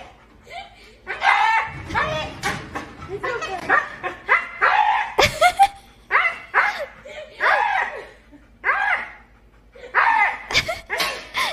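A husky barks and yips repeatedly in an uneven, lively rhythm, close and loud, with short whimpering notes between barks and a person chuckling faintly in the background.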